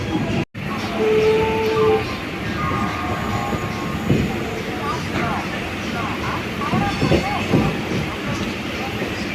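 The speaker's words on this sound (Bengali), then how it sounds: "দেখো হাওড়া স্টেশন থেকে আমাদের ট্রেন ছেড়ে যাচ্ছে" A train rumbles and clatters steadily as it pulls away from Howrah station, wheels clicking over the rails, with people talking nearby under the noise.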